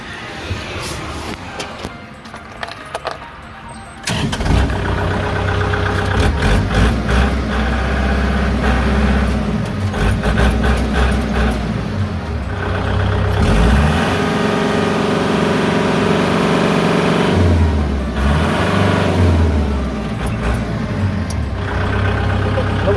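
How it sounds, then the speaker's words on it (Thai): A Kubota L5018 farm tractor's diesel engine cranks and catches after a few seconds of quiet, then settles into a loud, steady running rumble with occasional revs. "เดี๋ยวเราลองมาสตาร์ทเครื่องยนต์ฟังเสียงเครื่องกันสักหน่อย"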